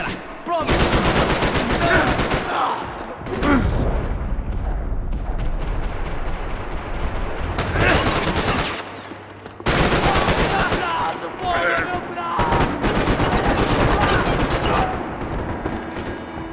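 Heavy gunfire in the video game Max Payne 3, long loud bursts of automatic shots and blasts separated by short gaps, dense and close throughout.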